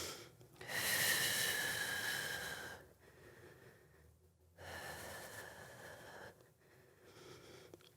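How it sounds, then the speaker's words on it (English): Deep breathing during a Pilates mat workout: two long, airy, hissing breaths, each lasting a couple of seconds, separated by a quiet pause, close and fairly soft, with no talking. "Big deep breaths."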